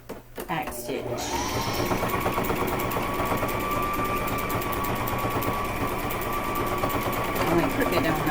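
Sewing machine back stitching on a fabric casserole carrier: a brief click and clatter at the start, then a loud, steady, rapid mechanical whir that runs without a break, close up.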